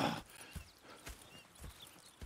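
Horses in the Red Dead Redemption 2 video game clop along at a slow walk, with soft regular hoof strikes roughly every half second against quiet ambience and a brief faint whinny near the start.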